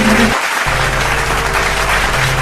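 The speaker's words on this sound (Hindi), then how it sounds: "आप जोरदार तालियों से" An audience at a poetry evening claps loudly to welcome a poet to the stage, a dense continuous burst of applause with no talking.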